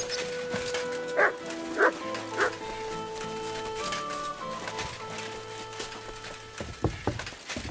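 A dog in Kingdom Come: Deliverance 2 barks several times in sharp bursts and whimpers, mixed with a sustained musical tone, close and fairly loud.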